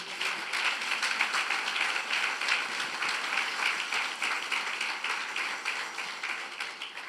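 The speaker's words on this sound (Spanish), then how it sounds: "dale un aplauso al Señor" A church congregation claps steadily together, a dense sustained round of applause that carries evenly from start to finish without voices.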